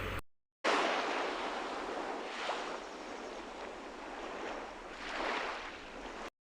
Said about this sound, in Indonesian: coba dengarkan suasana pantai berikut ini